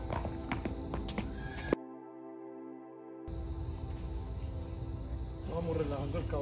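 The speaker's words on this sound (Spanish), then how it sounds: "Vamos relajando el caballo, ha puesto mucha resistencia" Horse being rehabilitated after strong resistance, neighing and shifting with hoof clatter and snorts nearby, broken by a short stretch of near silence, with some background voice.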